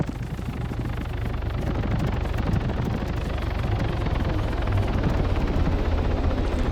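A military helicopter in the video game Arma 3 comes down onto a helipad, its engine and rotors producing a loud, steady, close roar with a rapid thumping throughout, no voices present.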